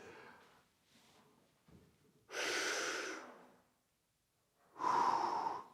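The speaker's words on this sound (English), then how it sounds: "I'd be breathing in on the way out, and when I return the cable, breathing out" Slow, audible breaths during a standing cable reverse fly: a soft inhale, then louder drawn-out breathing with long exhales, close to the mic with pauses of near silence between them.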